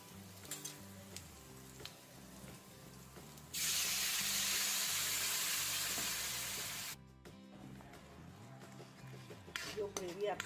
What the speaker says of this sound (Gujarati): હવે ગ્રેવીને થોડા જીરા સાથે વઘારી લઈશું.